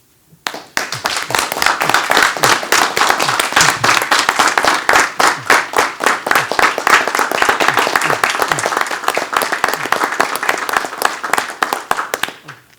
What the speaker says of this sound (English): Marcus is clapping for me.